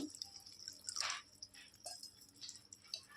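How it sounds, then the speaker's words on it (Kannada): Water trickles and drips into a mixer jar holding ground masala for a fish curry gravy, close and soft, with no talking. "ಮಸಾಲೆ ಗ್ರೈಂಡ್ ಮಾಡ್ಕೊಂಡಿರೋ ಜಾರ್ಗೆ ಸ್ವಲ್ಪ ನೀರು ಹಾಕ್ಕೊಂಡು ನೀರನ್ನು ಹಾಕ್ಕೊಂಡು ಬಿಡೋಣ"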